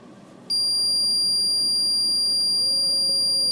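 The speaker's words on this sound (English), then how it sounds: "Just a continuous, droning, high-pitched noise." A 1982 Berlin-Uhr digital alarm clock, made in West Berlin, sounds a continuous, piercing high-pitched electronic tone that starts abruptly and drones on without pause over faint room noise.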